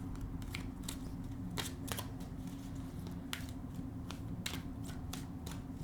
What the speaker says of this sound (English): now let me shuffle a little more